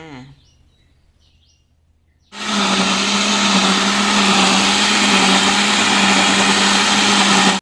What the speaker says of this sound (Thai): จะใช้เครื่องปั่น เราจะไปปั่นกันเลยค่ะ